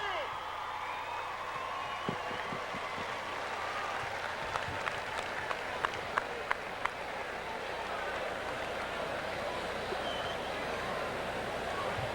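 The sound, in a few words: crowd applauding and cheering at an all-star game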